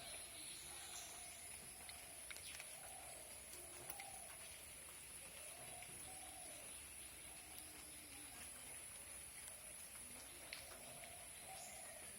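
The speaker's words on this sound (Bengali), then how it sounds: "তো বৃষ্টি কিন্তু এখনো পড়তেছে হালকা হালকা" Light rain falls steadily outdoors in the early morning, a soft continuous hiss with faint patter, while birds call repeatedly in the background; no one speaks.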